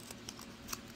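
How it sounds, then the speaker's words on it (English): Scissors snip through paper along a traced line for a paper flower, giving a few quick, quiet crisp cuts close by with no talking. "all you gotta do, cut around your line"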